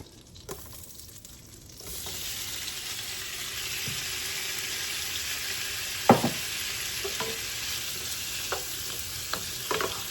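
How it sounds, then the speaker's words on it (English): Shrimp sizzle in hot butter in a pan, a steady bright frying hiss that starts about two seconds in, broken by a few sharp clinks and scrapes as they are stirred. "So this is just the shrimp that we're going to saute in this butter."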